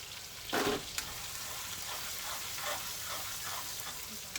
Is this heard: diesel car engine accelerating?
no